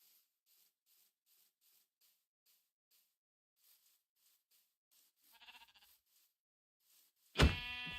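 Sheep bleating in Minecraft: a wavering bleat rises mid-clip, then a loud, sharp bleat at the end, with faint rhythmic ticking sounds repeating beforehand.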